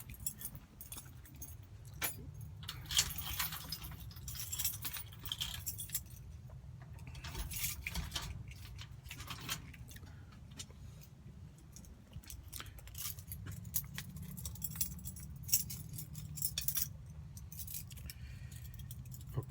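A ring of house keys jangles and clinks in a hand as someone lets themselves into a property, a long run of soft metallic rattles and small taps over a low, steady background rumble.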